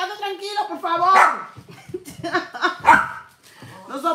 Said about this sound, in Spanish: Espérate, Foco, espérate que Max termine de ladrarle